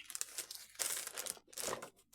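A popcorn bag is crinkled and handled for a junk journal, giving close, bursty crackling rustles in several separate handfuls with short pauses between them.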